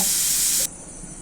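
A pressure cooker vents a loud, steady hiss of steam that cuts off abruptly partway through, leaving a quieter residual hiss; no talking over it.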